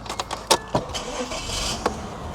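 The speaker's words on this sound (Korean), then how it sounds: "시동을 한번 걸어보면은" A 1990s Korean rear-drive luxury sedan, a Hyundai New Grandeur with a longitudinal V-engine of about 167 hp, starting up: a few short clicks and cranking bursts, then a brief catch, heard close and fairly quiet.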